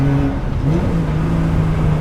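Race car engine with a full stainless steel exhaust, running steadily with a strong low drone and a slight rise in pitch partway through, loud and close throughout.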